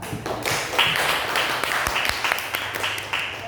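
An audience at a government employee ethics and work culture seminar applauds a speaker: a brief patter of scattered hand claps in an indoor hall, fairly close.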